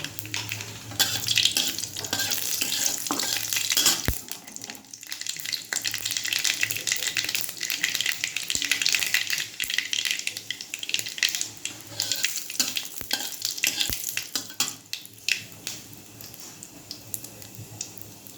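Dried red chillies and black mustard seeds fry in hot oil with a steady, close crackling sizzle that runs throughout, broken by a few sharp clicks and pops.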